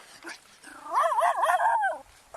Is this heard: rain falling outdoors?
no